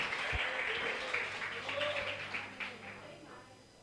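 A church congregation claps in a steady, broad wash of applause that fades gradually toward the end, with a voice speaking over it.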